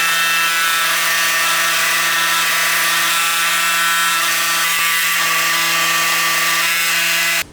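A power saw cuts a wooden blank into small pieces for making wooden rings: a loud, steady high-pitched whine with a constant hum underneath runs without a break, then stops abruptly at the end, with no voices.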